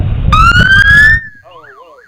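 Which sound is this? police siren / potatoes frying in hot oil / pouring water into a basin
police siren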